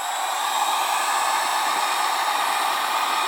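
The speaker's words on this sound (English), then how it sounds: "what happens if I use the dryer" A handheld hair dryer blows continuously at close range, a smooth, even, loud airy whoosh that holds steady throughout with no talking.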